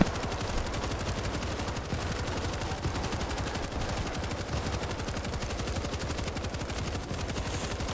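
Machine gun fire in the video game World War Z, a dense continuous rapid burst of shots layered with other gunfire, loud and unbroken for the whole stretch.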